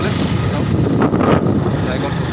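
Short stretch of steady, wind-buffeted engine and road rumble from a motorbike carrying freshly cut taro tied to it, loud and continuous throughout.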